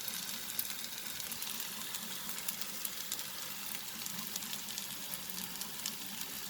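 Paneer bhurji sizzles steadily in a pan over a medium flame, with continuous soft frying crackle and occasional louder pops and stirring scrapes, no talk.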